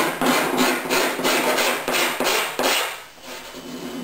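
A bent hacksaw blade is dragged along a fibreglass tape seam in repeated rasping strokes, about eight scraping passes in a steady rhythm, close and fairly loud, with no talk.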